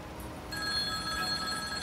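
An in-game telephone rings in Farming Simulator 22, a steady electronic ring starting partway through, moderately loud with no talk over it.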